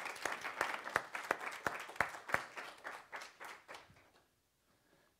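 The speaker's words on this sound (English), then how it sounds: "You should at least get applause for the time we're in, right?" An indoor audience applauds veterans who have just stood to be thanked for their service, a rhythmic burst of clapping with sharp individual claps that fades out and ends in near silence.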